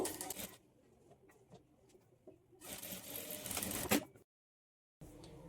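A sewing machine stitches darts on a boat-neck blouse in short runs of whirring: one brief burst, a longer run after a pause, then another start after a moment of silence.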